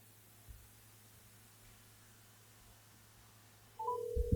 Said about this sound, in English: Let me see if I can call my dad real quick. Get him on the phone.